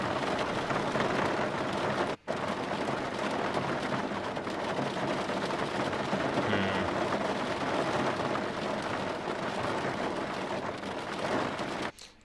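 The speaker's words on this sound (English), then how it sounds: "Rain." A library rain sample previewed in Logic Pro X plays as a steady, even hiss of falling rain, broken by a brief cut near the start, before stopping abruptly at the end.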